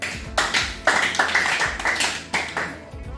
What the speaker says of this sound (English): Please put your hands together for Onyekwe Lillian.